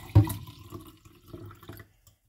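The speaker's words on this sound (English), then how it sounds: "And then you pour your juice, I mean water," Water poured back into a container while preparing a homemade orange-flavoured drink, a short close splash burst at the start followed by quieter trickling and dribbles that fade to silence.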